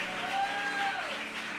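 Church congregation applauding together, a continuous, even wash of clapping at moderate distance that holds steady without pauses.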